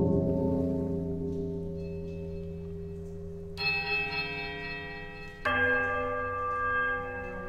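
Bells ringing from a stone structure in the video game Pillars of Eternity, with a low sustained chime fading out, then two bright, resonant bell strikes that ring on and decay, clear and alone.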